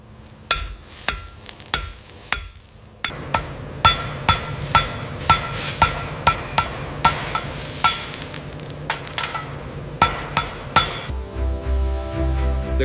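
Uchidashi hand hammering of metal at a Japanese high-speed rail factory: a few sparse strikes, then a steady run of sharp, ringing blows at a regular rhythm, close and clear, ending with a change to lower droning sound.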